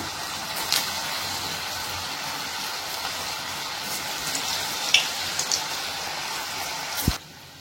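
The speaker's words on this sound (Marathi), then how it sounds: "कमी म्हणजे मंद गॅसवरतीच तळून घ्यायचे" Cabbage manchurian balls deep frying in oil over a low flame give a soft, steady bubbling hiss, close by, with a few light clinks and a sharp knock near the end.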